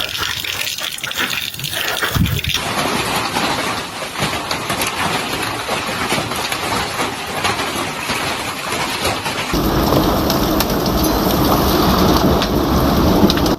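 Heavy rain pours steadily during a thunderstorm with hail, and thunder rumbles underneath. The downpour is loud and dense throughout and grows even heavier and brighter partway through.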